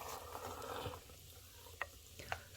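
Fermenting cheonggamju, a Korean rice wine, is given one big stir. A wet sloshing swirl runs for about a second, followed by two sharp clicks against the vessel.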